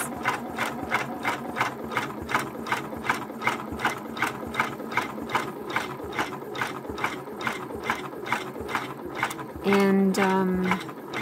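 A Janome MB4 embroidery machine stitches a satin applique outline in a steady, fast mechanical rhythm of needle strokes, close and continuous, with a brief louder whirring burst near the end.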